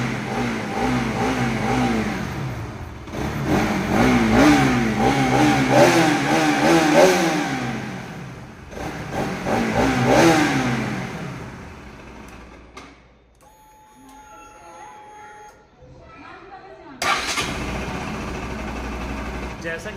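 A Bajaj Pulsar RS200 motorcycle, a BS3 model with a misfire fault, starts and revs repeatedly with rising and falling engine pitch, then drops to a quieter idle before a sharp final rev, with a voice talking over it.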